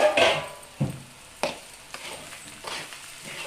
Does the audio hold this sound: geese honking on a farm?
no